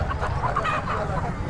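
Desi chickens cluck continuously at Hamiltonganj bazaar in Kalchini, with overlapping close calls and a busy market murmur underneath.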